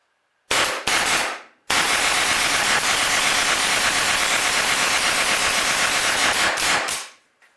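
Autococker paintball gun with a Shocktech Gunfighter frame firing indoors: two short bursts, then a long, loud, rapid string of shots that ends abruptly, close up.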